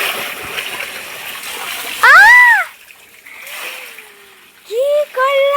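Tap water splashing into a makeshift pool, with loud bursts of splatter over a running stream as children shout and talk excitedly nearby.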